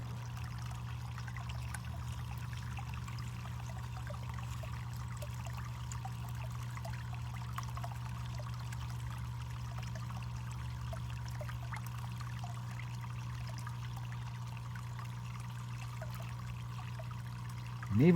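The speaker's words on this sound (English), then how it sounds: "just the sound of the water and the pump running" Water streams and trickles steadily while a small pump hums underneath during black sand cleanup for gold, a quiet, unbroken wash of flow lasting the whole stretch with no talking.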